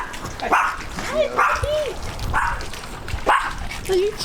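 A small dog at a marina barks a few sharp, close yips and whines, spaced irregularly, while a person talks to it.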